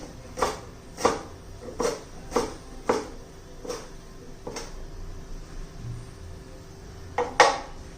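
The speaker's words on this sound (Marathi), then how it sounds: "आता कोथिंबीर पण बारीक चिरून घ्यायची." A knife finely chopping fresh coriander on a board, a series of sharp, fairly regular chops roughly every second, close and clear, with a short double chop near the end and no talking.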